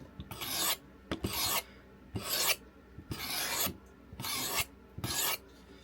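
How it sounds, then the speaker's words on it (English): A Work Sharp Guided Field Sharpener draws its coarse side along a knife blade in five steady rasping strokes, each about half a second long with short pauses between, close and fairly loud with no talk. "I did have to start with the coarse side on this to get it"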